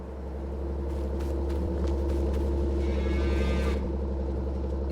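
Cattle mooing on a farm in Farming Simulator, Edgewater Saskatchewan map, a steady low herd drone with a drawn-out moo rising near the end over continuous ambient farm rumble.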